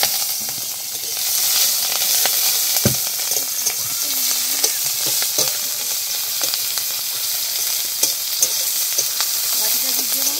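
Onions go into a hot wok during riverside cooking and fry with a loud, steady hiss and crackle, broken by occasional clicks and scrapes of a utensil, with no voices.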